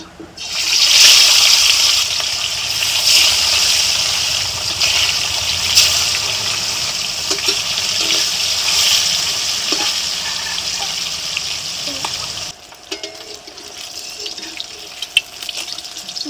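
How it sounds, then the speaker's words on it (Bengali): Rui fish frying in hot oil, a loud, close, continuous hissing sizzle that holds steady for several seconds before dropping off sharply, followed by fainter crackles and small clinks, no voices. "এই তেলে এখন মাছগুলো ভেজে নিচ্ছি"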